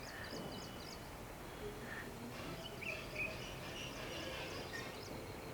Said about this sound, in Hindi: पर यह जो पंछी बोल रहा है इसकी आवाज़